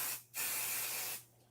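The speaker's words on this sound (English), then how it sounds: "So I sprayed my pixie spray on there, and it makes a phenomenal adhesive." Two short hissing bursts of Pixie spray adhesive aimed at a card, a brief puff followed by a longer steady spray lasting nearly a second, close and fairly quiet with no voices.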